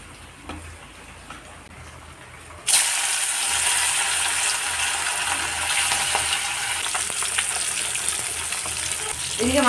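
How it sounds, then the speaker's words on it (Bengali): Fish frying in hot oil in a wok, starting abruptly as a loud, dense sizzle that continues steadily to the end, with faint clattering and no talk. "এদিকে মাছগুলো ভাজা হচ্ছে"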